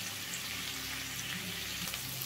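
Cauliflower pieces fry in a pan over medium flame, a steady, dense sizzle filling the whole moment with faint scraping as they are gently stirred, no voices.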